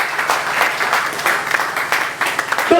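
A church congregation applauding the Lord, with steady, loud clapping from many hands and a broad, even roar of claps that keeps going throughout.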